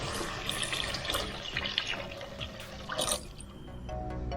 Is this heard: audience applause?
no